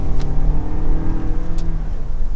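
A 2024 Lexus TX 350 AWD engine revs and accelerates steadily, a continuous rising drone heard from inside the vehicle, with no talking.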